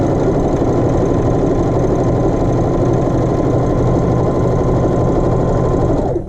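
Sewing machine running steadily while stitching a 7-inch muslin square, a continuous close, loud mechanical hum and rapid needle chatter that holds even for about six seconds, with no talking.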